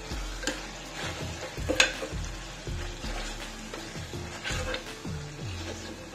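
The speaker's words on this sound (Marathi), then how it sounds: "हे मिक्स करायचं, चांगलं शिजू द्यायचे 2 मिनिटं आपले मसाले।" Red chilli powder, coriander powder and turmeric masala frying in a pan for Punjabi-style chhole, with a steady low sizzle under repeated spoon-stirring scrapes and clicks, close and moderately quiet, no talk.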